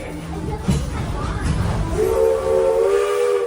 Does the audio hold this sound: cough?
no